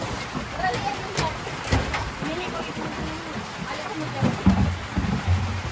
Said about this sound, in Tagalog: Bumagsak ng ulan.